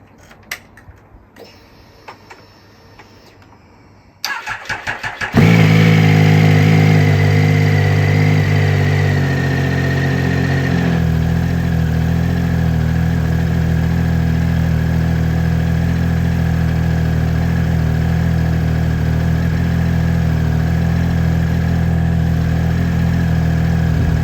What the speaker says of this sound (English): start the bike up and let it run between 5 and 10 minutes just to get the engine warm